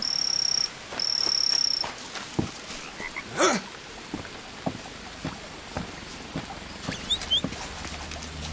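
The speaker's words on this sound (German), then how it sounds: "Frosch." Frogs croaking in the jungle survival game Green Hell, short scattered calls among steady cricket and insect chirping, with a couple of tonal bird-like whistles early on; no talking.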